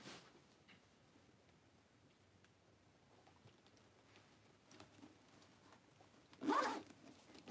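The zipper on a designer tote bag's inner compartment gives one quick, close rasping pull near the end, following a stretch of faint handling noise.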